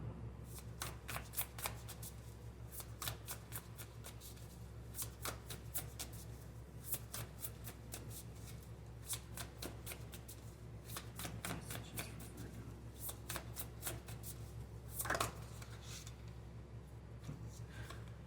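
Tarot cards riffled and shuffled repeatedly in quick papery bursts, close by, with a louder flutter near the end over a steady low hum.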